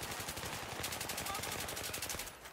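Rapid, steady bursts of automatic gunfire ring out in the Battlefield video game, a dense continuous rattle that carries on for a couple of seconds at a fairly low level.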